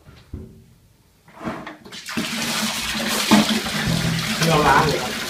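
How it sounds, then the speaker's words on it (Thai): Water pours and rinses over a silkscreen printing screen, a steady loud splashing and running flow after a few brief knocks; near, continuous, with faint talk underneath at times. "เราล้างเลยครับเทล้างไปเลย"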